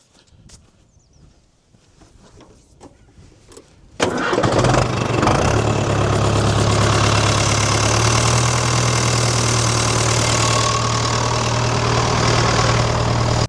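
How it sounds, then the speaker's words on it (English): A tractor engine cranks briefly and then roars to life, settling into a loud, steady idle rumble that continues without pause. "Let's start this tractor up again"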